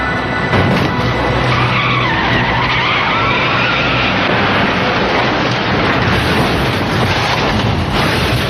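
A car skids on the road during a crash, a long, loud, continuous roar of tire noise and engine rumble that barely lets up for over eight seconds, with no talk.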